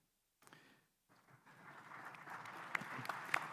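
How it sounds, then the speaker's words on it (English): A conference audience at a youth empowerment and energy careers session breaks into applause. A few scattered claps grow into a steady, moderately loud round of clapping. "we're clapping for women here"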